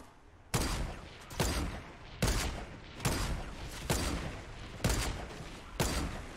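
Gunfire in Fortnite's zombies mode: loud, sustained bursts of shooting that return roughly every second, each sharp onset trailing off into a dense rattle.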